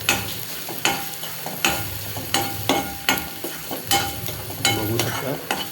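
Spice mixture of coriander powder and turmeric with onion being stirred while it fries in a pan, giving a steady sizzle broken by regular loud scraping strokes of the spoon about once a second, close and clear with no talking.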